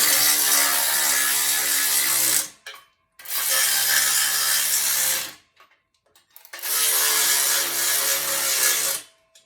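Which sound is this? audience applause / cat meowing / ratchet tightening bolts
ratchet tightening bolts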